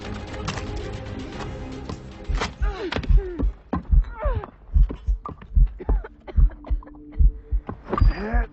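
Heavy, slow heartbeat thumps from an Assassin's Creed Rogue cutscene in which a poisoned character struggles, pulsing steadily through the second half after an opening of strained voices and noise.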